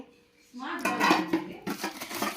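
Steel cookware, a newly bought kadai and a small cooking pot, handled at close range, with clinks and knocks following quiet, steady after the first half second.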